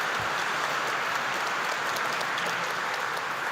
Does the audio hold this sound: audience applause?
yes